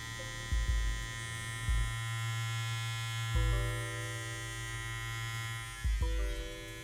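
Kemei KM5027 electric trimmer running: a steady close buzzing motor hum with a few louder bumps and shifts in pitch as it is handled.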